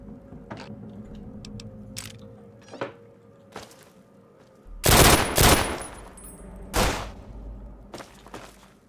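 Gunfire in Fallout 3 cracks out in scattered single shots, then a few loud, heavy bursts of rapid fire up close, with game ambience between.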